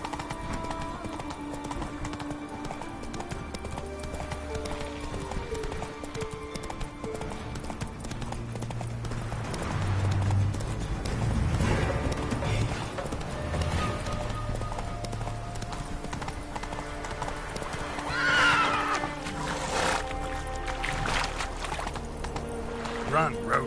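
Hooves of Roach, Geralt's horse in The Witcher 3, clip-clop steadily across ground over a game soundtrack with water or ambient rumble, and a short whinny rises near the end.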